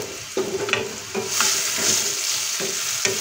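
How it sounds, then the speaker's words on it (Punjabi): Mushrooms fry in hot oil and ghee with a constant close sizzle, broken by several scraping stirs of a spoon in the pan. "ਤੇਲ ਅਤੇ ਘਿਓ ਗਰਮ ਹੋ ਗਿਆ, ਹੁਣ ਆਪਾਂ ਇਹ ਵਾਲੇ ਮਸ਼ਰੂਮ ਦੇ ਵਿੱਚ ਪਾ ਦਿੰਦੇ ਹਾਂ।"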